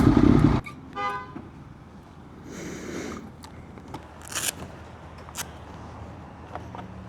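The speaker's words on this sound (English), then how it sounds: "Oh, that is a busy gas station." Traffic at a busy gas station during a fuel stop on a Daytona 955i superbike: a loud burst of engine noise at the start, then passing cars, a short horn toot and scattered clanks and thuds at a moderate distance.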